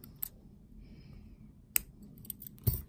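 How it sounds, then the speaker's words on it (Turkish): Scissors snip through thread or cord during beadwork, giving three or four sharp, close clicks spaced apart over a quiet room background. "Şimdi bunu buradan kesiyorum"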